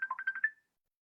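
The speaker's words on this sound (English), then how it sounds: "that's my phone ringing" A mobile phone rings during an online seminar, a short electronic ringtone of about five quick pulsing tones over half a second, then it cuts off into silence.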